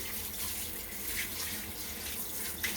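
A tap runs steadily into a sink while soap is rinsed off hands, a continuous close splashing hiss with a brief louder splash near the end and no talking.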